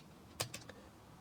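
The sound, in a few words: typing on a computer keyboard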